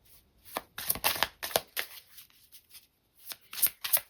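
Tarot cards being shuffled by hand before one is drawn: quick papery riffles and slaps in several short bursts, close and crisp, with brief pauses between them.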